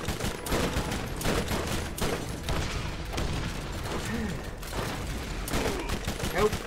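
Rapid gunfire from Borderlands 1, including sniper shots, rattles in dense, overlapping bursts for several seconds, loud and continuous, with players' voices talking over it.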